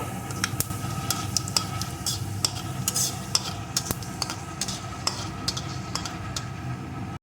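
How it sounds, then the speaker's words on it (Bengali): Dry red chillies and panch phoron fry in hot oil with a steady, dense sizzle, while a spoon stirs through them with scattered light scrapes and clicks. No one speaks. "এখন এই তেলের ভিতরে দিয়ে দেবো দুটো শুকনো লঙ্কা একটু পাঁচ ফোড়ন ফোড়নটাকে ভালো করে ভেজে নেব"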